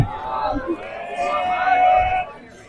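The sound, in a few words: restless crowd at a high school baseball game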